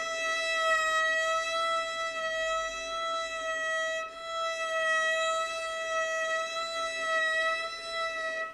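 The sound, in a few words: violin transversal vibrato demonstration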